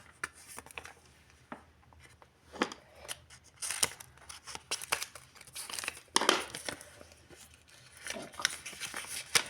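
A paper surprise packet is opened with scattered crinkles, rustles and small tearing sounds. They come in irregular bursts over nearly ten seconds, close up and moderately quiet, with no speech.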